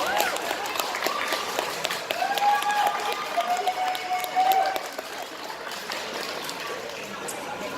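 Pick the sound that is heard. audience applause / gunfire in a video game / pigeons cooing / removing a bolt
audience applause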